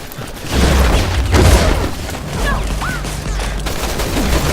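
Gunfire in the video game Resident Evil 6 rattles through a heavy, sustained burst of shots with deep booming low end, continuous and loud across the whole stretch, with no voices over it.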